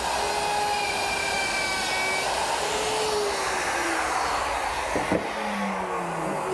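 Router on a dovetail jig cutting pins in a teak drawer front for a bar, a loud continuous whining motor roar with shifting pitch and a brief knock near the end.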